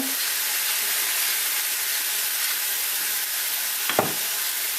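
Ground beef frying in a pan for a homemade pâté chinois, a steady dense sizzle running throughout, with a brief louder scrape of stirring near the end.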